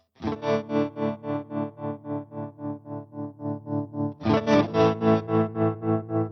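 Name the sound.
electric guitar through amp vibrato channel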